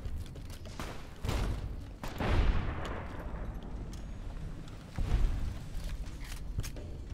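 Gunfire and booming grenade blasts in Fallout: New Vegas, with several heavy thumps and a rumbling explosion amid scattered shots, fairly loud and continuous with no talk.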